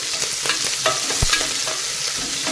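Thick-cut onion and slit green chillies frying in a pan over low heat, a steady close sizzle with repeated scraping stirs and a dull knock at the pan.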